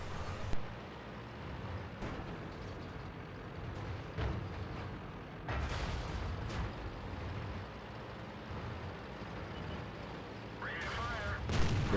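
Booming artillery shots sound in a tank video game, several sharp blasts spaced a few seconds apart over a steady low engine rumble, with a voice talking throughout.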